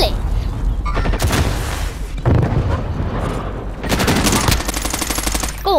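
Bursts of rapid gunfire in the video game Call of Duty: Modern Warfare, loud overlapping volleys with a booming undertone and short gaps between them.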